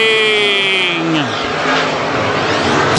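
WISSOTA Midwest Modified race cars roar past at a speedway under green flag, a loud close engine howl that drops in pitch as the cars sweep by, with a race announcer talking over it.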